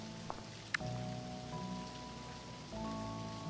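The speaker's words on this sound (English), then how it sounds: "Why does it sound like it's raining in the game?" Steady soft rain hiss in the To Pixelia video game, faint and continuous beneath sustained musical tones, with a couple of brief clicks near the start.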